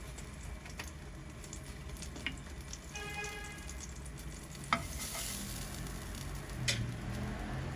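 Radish greens fry in hot oil, giving a steady close sizzle broken by occasional stirring scrapes and small knocks, with no speech.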